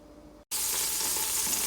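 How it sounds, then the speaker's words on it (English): After a brief pause, a loud, steady sizzle of onions frying in hot vegetable oil in a pan fills the clip, close and continuous with no voices. "in a pan I've put about 2 tablespoons of vegetable oil, and just gonna let that sizzle"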